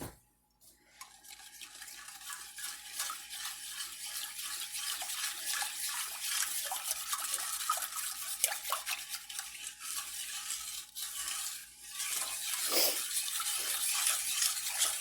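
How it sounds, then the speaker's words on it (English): Key lime pie filling is whisked in a pot, a continuous close, bright scraping swish of the whisk against the metal that runs steadily for the whole stretch, with only a brief pause near the end. "Now we're going to whisk that up a little bit."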